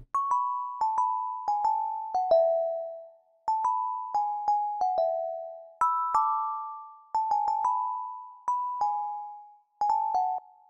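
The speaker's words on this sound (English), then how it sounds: "Next up is the bells, so I'm pretty sure this is the exact bell preset that they use. It's the Celesta preset from Purity" Celesta preset from the Purity synth plugin playing a slow melodic phrase of bright bell notes, dry with no effects, each struck tone ringing and decaying before the next, grouped in short runs with brief pauses between.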